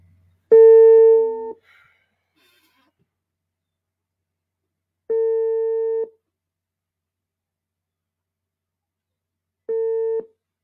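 Telephone busy signal after a call is cut off: three separate steady tonal beeps, each roughly a second long, spaced several seconds apart, clear and alone with no talk.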